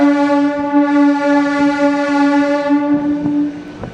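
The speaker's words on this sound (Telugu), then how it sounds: "గౌరీబిన్నూర్ నుంచి మన ట్రైన్ బయలుదేరింది." A MEMU train pulls out of Gauribidanur station, its horn sounding a loud, steady multi-tone blast close by that carries on across the whole stretch while the engine and wheels rumble underneath.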